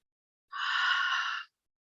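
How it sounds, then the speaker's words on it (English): A single forceful exhale through the mouth during a breathing exercise, a soft breathy whoosh lasting about a second, close and alone against silence. "breathe in through the nose and breathe out through the mouth"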